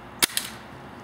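A&K SVD Dragunov spring-powered airsoft sniper rifle fires a 0.25 g BB: one sharp, loud crack followed a moment later by a softer secondary snap, then quiet.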